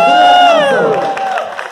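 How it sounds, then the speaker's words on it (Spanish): Audience at a Linares mothers' talent contest cheering and whooping loudly, a dense burst of crowd voices with rising shouts that fades slightly, with little distinct clapping. "pido al público de Linares y al jurado y a todo el mundo un aplauso muy fuerte para todas ellas"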